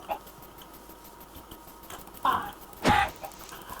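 Two short clucking calls from a chicken, close by, in Minecraft, against a steady low background hum.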